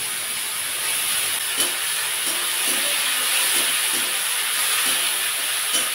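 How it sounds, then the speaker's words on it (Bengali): Onion fries in a little oil with bay leaves, cloves, cardamom and cinnamon, giving off a steady, loud sizzling hiss with a few faint pops and stirring sounds. "পেঁয়াজটা একটু লাল লাল করে ভেজে নেব"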